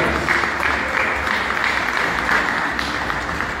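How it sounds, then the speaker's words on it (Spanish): A crowd claps steadily and loudly at a solemn anniversary session for Ventanilla, Peru, a dense wash of applause that carries on without pause. "Fuerte las palmas, señoras y señores."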